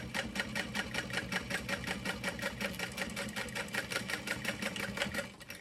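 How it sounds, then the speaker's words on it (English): A sewing machine stitches through the thick layers of a handbag, running in a fast, steady mechanical rattle close by that holds for several seconds before slowing at the end. "So I'm sewing through all those layers."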